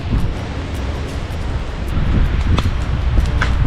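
Strong winter wind blasts across the mic at a snowy campsite, a loud, continuous rushing roar that grows heavier toward the end.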